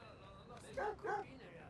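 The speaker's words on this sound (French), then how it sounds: "Oh, le chien." A dog in the video game Watch Dogs 2 gives two short barks close together near the middle, over a steady game background.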